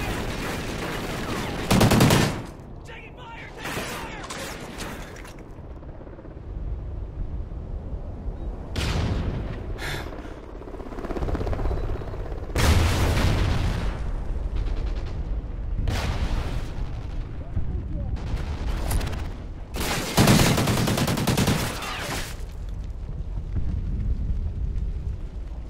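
Military video game firefight with heavy bursts of gunfire and booming blasts in several loud clusters, separated by quieter stretches of rumbling battle ambience.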